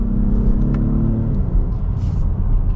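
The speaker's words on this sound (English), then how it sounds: "You get a little bit of turbo noise, which is great." 2022 Acura MDX Type S engine accelerating, a low rumbling drone with rising tones that shift midway, heard from inside the cabin with faint turbo whir and no talk.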